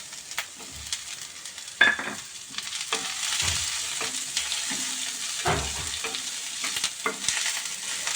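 Cabbage, carrot, onion and green chilli fry in a little oil over low flame for a breakfast khichdi, giving a steady soft sizzle broken by occasional stirring scrapes and clinks, fairly close, with no talking.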